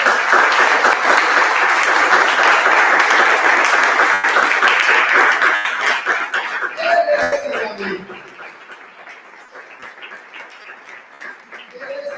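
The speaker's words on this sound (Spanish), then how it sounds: "Démosle un aplauso al Señor." A church congregation applauds loudly, steady clapping that gradually fades out, with some chuckles and voices audible as it dies down.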